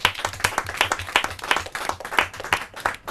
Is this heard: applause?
yes